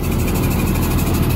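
A Massey Ferguson 375 tractor engine runs steadily as it powers a tube well among green crop fields, giving a continuous loud, even diesel drone with a low vibrating throb and no pauses.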